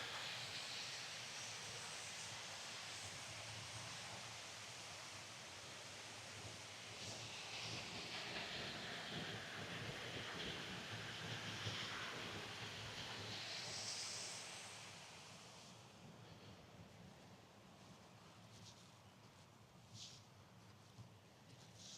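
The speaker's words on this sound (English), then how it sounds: "It's a nice sound, that sound of running water." Running water at Cringle Reservoir and plantation on the Isle of Man, a steady broad rushing hiss that swells midway and then eases a little, heard alone with no talk.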